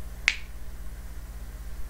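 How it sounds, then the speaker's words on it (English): A single crisp finger snap, close and clear, in a quiet room with faint background hum afterward. "I'm going to snap my fingers"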